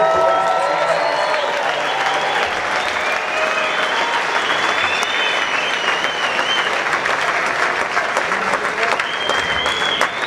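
Dense, loud audience applause at a film festival world premiere screening, sustained steady clapping from a full house for about ten seconds with scattered cheers.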